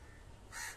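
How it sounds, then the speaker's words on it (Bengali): A crow caws once near the end, a loud harsh call over faint rooftop background with birds drinking from water given to plants. "দেখুন কাক পাখি"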